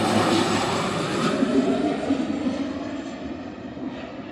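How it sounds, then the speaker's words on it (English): A small propeller plane drones loudly overhead near Vancouver, its engine roar gradually fading as it passes away. "Is it me, or do the small planes feel faster?"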